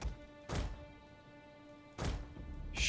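A ballista firing in Total War: Rome II, heard as two dull, heavy thunks about one and a half seconds apart over faint battle ambience.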